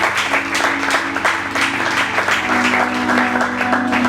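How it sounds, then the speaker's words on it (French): A church congregation clapping and acclaiming together, steady massed applause with rhythmic accents and voices mixed in over a low musical drone. "Acclame pour Jésus, acclame pour Jésus."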